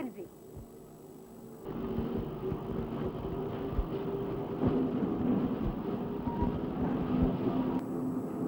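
Train of large, heavy iron-ore mine wagons in a Lorraine iron mine, rolling on heavy rail with a continuous low rumble and irregular clanks and thumps, moderately loud and steady throughout.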